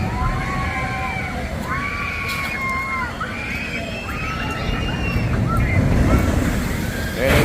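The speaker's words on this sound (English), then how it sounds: "Aquaman Power Wave" Riders on the Aquaman Power Wave water ride at Six Flags Over Texas get hit by a steady roar of splashing water and surf-like rush, with crowd noise and wind blowing throughout at close range.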